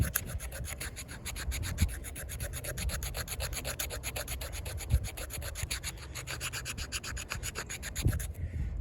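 Rapid rhythmic scraping of a Takumitak TKF306 knife's choil shaving wood outdoors, close and continuous, with a few soft knocks and light wind.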